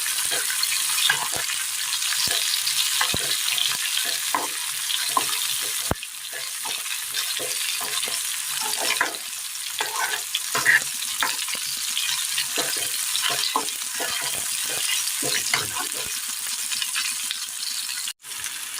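Chopped tomatoes sauté in a hot pan, giving a steady close sizzle and hiss with frequent soft scrapes and clicks of stirring throughout, no talking.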